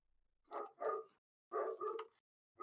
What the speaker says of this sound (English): I'm gonna go quiet the dog down